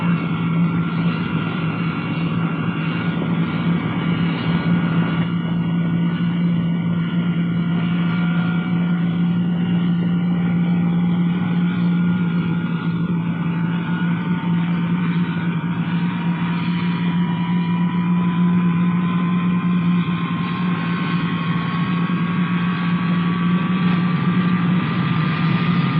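B-47 bomber jet engines spooling up during a start, a loud continuous roar with a low steady drone and a slowly rising whine, no talking.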